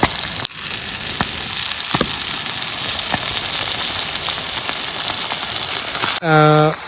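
Fish fries at a night campsite with a loud, continuous close sizzle and occasional crackles, ending in a brief tonal burst.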